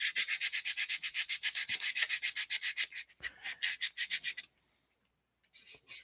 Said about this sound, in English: I've been sanding the side of the plastic so it'll make it thinner up where those vents are cut out